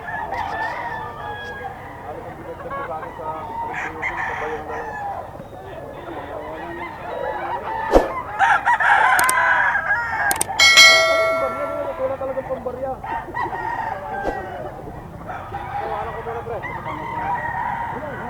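A bulik rooster crowing at a poultry market, a loud drawn-out crow rising mid-clip amid other fowl calls, honks and a sharp bell-like clang, with people chatting around it.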